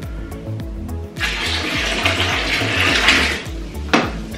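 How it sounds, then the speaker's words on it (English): Tap water pours steadily for about two and a half seconds, a hissing rush over a repeating low tonal pattern, then briefly surges again near the end, in a Swedish kitchen while home-brewed cider is being prepared. "I use my normal tap water, it's perfect."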